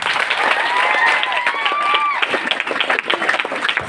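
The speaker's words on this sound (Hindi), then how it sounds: "उनके लिए जोरदार तालियां बजाइए।" Crowd applause at an education seminar held at a high school, a loud burst of clapping that stays full for a couple of seconds, then thins out into scattered claps, with some whistling tones over it.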